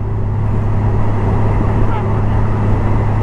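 A 2023 Honda GL1800 Gold Wing motorcycle engine runs steadily at close range, a loud, continuous low rumble with no break.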